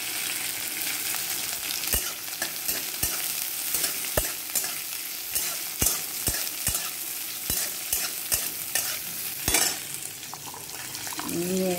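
Green chillies fry in a pan with a constant soft sizzle, broken by regular sharp clinks of a spatula striking the pan as they are stirred.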